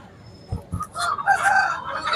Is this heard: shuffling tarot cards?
no